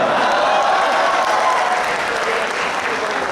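An audience at an alumni meet claps after a comedian's joke, a dense, steady wash of many hands filling the room and tapering slightly toward the end, with no talk.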